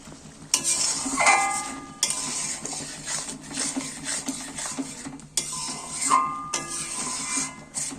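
A metal spoon stirs and scrapes chhana dalna, a cottage-cheese curry, in a pan after ghee is added, with repeated close scraping strokes in two bursts over a soft sizzle.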